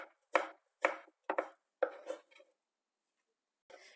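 A knife chops red kapya pepper into julienne strips on a board, with about five sharp, distinct cuts in an uneven rhythm, close and clear, followed by a pause and one more cut.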